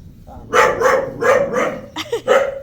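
A dog barks repeatedly, five or six sharp barks in quick succession, fairly close and loud, with a couple of softer yips between.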